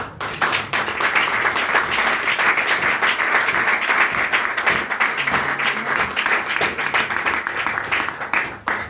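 A church congregation applauds and cheers in praise of the Lord, with dense, sustained clapping and crowd noise that stays loud and steady throughout, easing off only at the very end.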